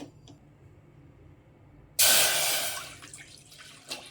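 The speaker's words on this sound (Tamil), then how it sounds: "தேவையான அளவுக்கு தண்ணி ஊற்றிக்கங்க." After a quiet start, water suddenly gushes and splashes into a cooking pot on a stove, loud at first and gradually easing as it keeps pouring.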